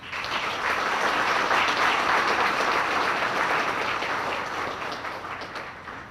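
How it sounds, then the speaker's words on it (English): Audience at a chamber of commerce annual dinner applauds in a steady, full wash of clapping that swells and then slowly tapers off. "So please join me in a round of applause as thanks."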